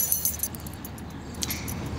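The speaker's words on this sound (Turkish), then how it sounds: "Anahtar." A few light metallic jingles of keys being handled nearby, brief clinks over a quiet indoor background.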